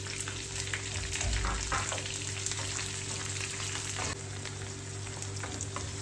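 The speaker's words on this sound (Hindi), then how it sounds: "अब मैं अनियन डालूंगा।" Onions for bhindi do pyaza fry in a generous amount of oil, a dense, steady sizzle close by that swells briefly early on and then settles slightly quieter, with no speech.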